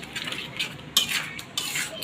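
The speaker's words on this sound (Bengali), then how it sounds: "আমি সব মশলাগুলো এইভাবে ভালো করে নেড়ে চেড়ে হালকা ঢাকা দিয়ে ঢেকে তারপর ভালো করে কষিয়ে নেব" Spices being stirred in a cooking pan with a utensil, giving a few scraping, rustling strokes with brief sharper clinks against the metal, close and fairly quiet, with no talk.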